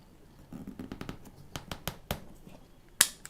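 Scissors snip through dough for vegan chikn tikka, a run of faint, quick cuts, with one sharper snip near the end and no talking.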